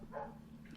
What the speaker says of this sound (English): my neighbor's dog decides it wants to bark the entire day.